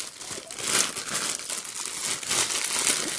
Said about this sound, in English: I'm trying to get into Ziploc bags and everything.